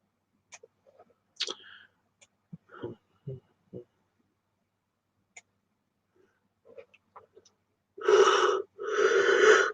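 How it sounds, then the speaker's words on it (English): Two long breathy yawns close up, coming after a scatter of small clicks, sniffs and mouth noises in an otherwise quiet room. "Why yawning?"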